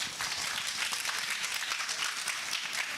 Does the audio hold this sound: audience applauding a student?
yes